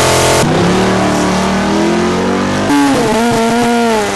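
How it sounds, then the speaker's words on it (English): Race cars roar and rev at No Problem Raceway with spinning tires and blue smoke, a loud sustained engine drone that shifts pitch partway through as another car climbs through the revs. "No Problem Raceway, with its spinning tires, blue smoke, and roaring engines"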